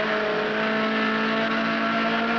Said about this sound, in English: About a 110 mile an hour, 180 degree sweeper, accelerating out of the turn